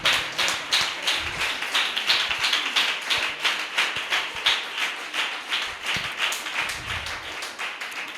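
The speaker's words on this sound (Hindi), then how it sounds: "जोरदार ताली।" Sustained applause from an audience at a New Year 2026 gathering, dense overlapping claps at a steady rapid rhythm, close and fairly loud, fading slightly toward the end.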